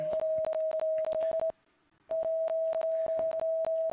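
An electronic eye-worn color sensor gives off a steady pure tone for purple, a clear sustained beep that drops out briefly and then returns, cut through by sharp clicks and ticks.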